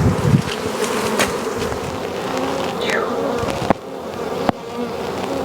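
Bees buzz densely around a hive, a close steady hum with individual insects whining past the microphone, punctuated by a couple of sharp clicks near the end.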